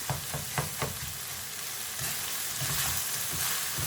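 Chicken keema filling with green peas cooking in a pan, a steady close sizzle with a few quick scraping stirs at the start, continuous and fairly loud with no talking.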